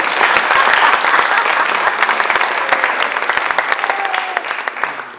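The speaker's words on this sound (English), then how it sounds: "give her a round of applause, I guess" Audience applause at a school speech event, a dense wash of many hands clapping that holds steady and then thins slightly toward the end, with scattered sharp claps standing out.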